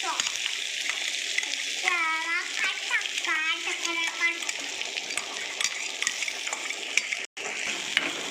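Food sautéing in ghee in a home kitchen, with a steady broadband sizzle throughout and stirring scrapes; a person talks over it.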